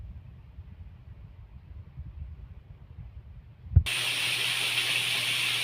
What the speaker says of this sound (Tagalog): naigisa na natin yung medyo matigas na gulay